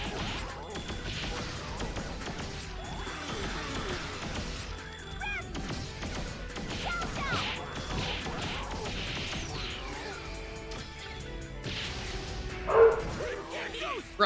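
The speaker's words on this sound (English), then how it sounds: "Wrestling dogs." Dogs wrestling in a video game, with barks, yips, whimpers and thuds in a busy stretch of game audio, continuous over music and effects, with a person talking over the action.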